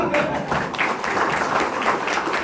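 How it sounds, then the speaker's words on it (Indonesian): An audience at an indoor work-planning event claps in a steady round of applause, a continuous patter of many hands at moderate loudness. "Ada tepuk tangan dulu."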